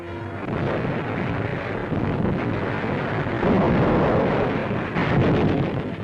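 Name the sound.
gunfire and explosions of battle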